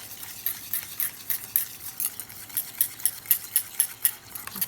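A whisk beats olive oil with mustard seeds in a bowl, making quick, regular rhythmic metallic clicks and scrapes, close and distinct, repeating steadily with no speech.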